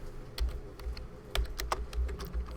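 Typing on a computer keyboard while entering code into a style file, a steady run of close, crisp key clicks in uneven bursts, heard alone.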